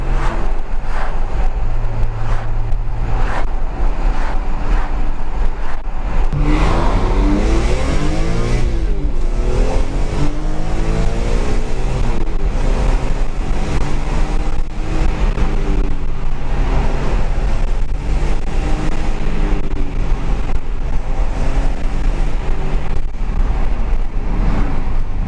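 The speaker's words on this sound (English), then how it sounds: "I'm going to go for a drive in Vince's M3" A BMW M3 driven in sport mode, its engine droning loud and steady from inside the cabin, rising and falling in pitch as it revs up and shifts through the gears.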